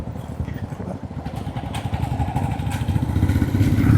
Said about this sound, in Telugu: ఇప్పుడు నేను థర్డ్ గేర్లో ఉన్నాను, క్లచ్ వదిలేసాను.